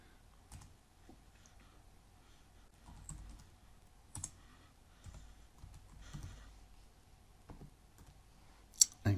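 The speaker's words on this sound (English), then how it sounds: "So I'm going to type in some made up details." Scattered keystrokes on a computer keyboard while entering class details, soft clicks in irregular short bursts with pauses, close and quiet.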